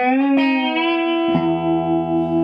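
Distorted electric guitar plays a reverse-style trick bend: a sustained note whose pitch slides, then a fresh picked chord shape rings on, each new pluck clearly struck, loud and solo.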